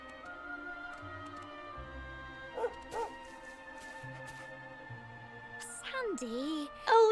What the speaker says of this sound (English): Looks like a Cocker Spaniel.